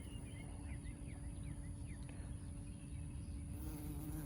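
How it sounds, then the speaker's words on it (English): A bee buzzes steadily around a watermelon flower outdoors, a close, continuous drone with faint insect and bird sounds in the background and no talking. "So here's the bee."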